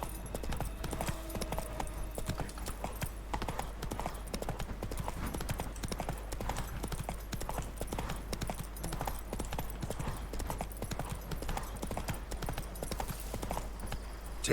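Horse hooves clip-clop in a steady galloping rhythm throughout, with a constant low hum beneath, as the rider urges the horse on in The Witcher 3 video game.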